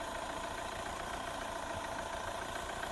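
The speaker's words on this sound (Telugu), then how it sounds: "ఇంజన్ బీటింగ్ కూడా చూడండి" A Hyundai i20 Asta diesel engine idles under an open bonnet, a steady, even mechanical clatter heard at moderate level from close by, with no voices.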